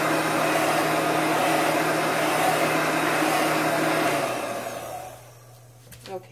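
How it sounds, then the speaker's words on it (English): A heat gun blows hot air over chalk paste in a steady loud roar that cuts off near the end, leaving low hum and a few small clicks. "So you can dry it with the heat gun"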